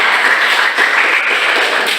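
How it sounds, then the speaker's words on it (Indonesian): An audience gives dense, continuous applause, with many hands clapping together in a loud, even wash of sound and no break. "Ya, tepuk tangan buat kalian semua."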